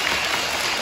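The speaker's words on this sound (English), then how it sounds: "So one more nice round of applause for them." Students at a third-grade awards ceremony give a short burst of dense applause, a loud continuous wash of clapping heard within a large room.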